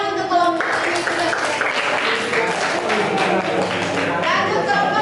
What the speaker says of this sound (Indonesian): Tepuk tangan untuk kelompok ini sudah